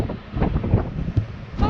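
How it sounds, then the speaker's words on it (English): Gusty wind on sea cliffs at Valentia Island buffets the microphone in uneven rumbling bursts, loud and close, with no voices over it. "It's pretty windy here."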